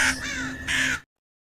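Crows cawing in an Indonesian horror film, two loud, close, raspy caws in quick succession, then abrupt silence.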